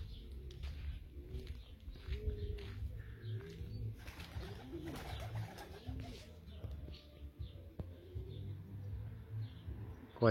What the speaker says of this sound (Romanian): Cu alea doi porumbei. Porumbiță și porumbel.